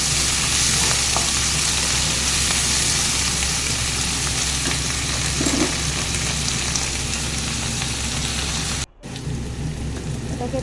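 Capsicum, carrot and onion fry in a pan for chilli paneer, making a loud, continuous, rain-like sizzle close up that cuts out briefly near the end before resuming more quietly.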